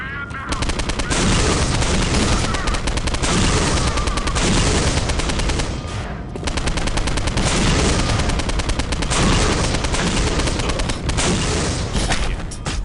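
Relentless machine gun fire in the shooter game Postal, loud and dense bursts rattling almost nonstop with a brief pause midway, mixed with booming shots.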